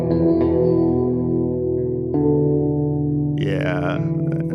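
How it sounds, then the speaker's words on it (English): Sustained modular synth tones ring out and decay slowly into a long, washy convolution reverb tail of about eight seconds, with a rising sweep near the end. "We're looking about an 8-second tail on that reverb, which is great."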